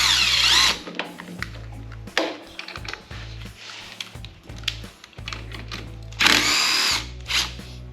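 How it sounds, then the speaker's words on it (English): A power tool undoes bolts on a Honda Odyssey FL350 engine in loud, close whirring bursts that start and stop repeatedly, with rattling and clicks from the tool in between. "I'm going to undo these two bolts here."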